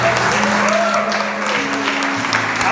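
Congregation applauding during a church service, loud dense clapping under sustained organ or keyboard tones, steady for the whole stretch.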